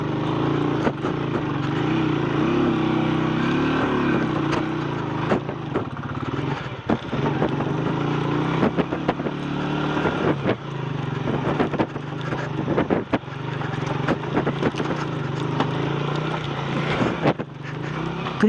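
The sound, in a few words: motorcycle riding in first gear on rocky mountain road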